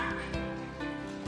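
Electronic toy puppy giving out a short, close run of synthetic whimpers and yips, tonal and slightly buzzy, with two sharp bark-like accents, and no one speaking over it.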